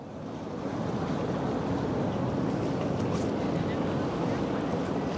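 The MSC Virtuosa cruise ship reversing as it departs Rotterdam, a steady broadband rumble of engines and churning water with wind buffeting the microphone, continuous and fairly loud throughout with faint talk nearby.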